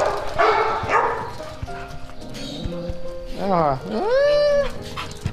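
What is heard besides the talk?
dogs barking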